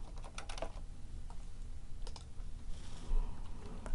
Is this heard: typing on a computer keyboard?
yes